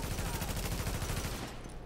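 Rapid gunfire from Tom Clancy's The Division, a dense sustained burst of shots over about a second and a half, loud and close, then tailing off into a lower rumble.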